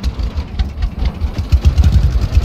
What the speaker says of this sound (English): I don't know why this tractor's giving me trouble today.